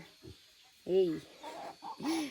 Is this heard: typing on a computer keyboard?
no